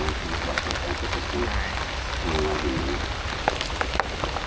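Rain falls on the water and boat during a river tour in Vietnam's Mekong Delta, a dense steady patter with scattered sharper drops, heard up close beneath brief voices.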